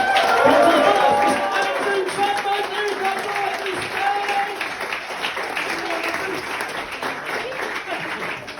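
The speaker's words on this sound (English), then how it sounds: "move, clap and cheer, make a lot of noise!" A stand-up comedy crowd claps and cheers continuously, thick sustained applause with shouts and whistles on top, loudest at the start and holding steady for several seconds.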